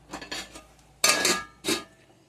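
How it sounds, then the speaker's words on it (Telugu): Sweet pumpkin and jaggery syrup cooking in a pot, with a few sharp metallic clanks and clatters, loud and close, as the lid is set on. "గుమ్మడికాయ స్వీట్ మూత పెట్టేసుకుందాం"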